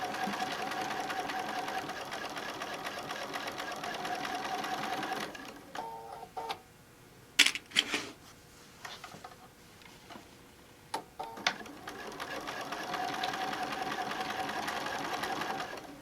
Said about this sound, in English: I am sewing with the free arm open on the machine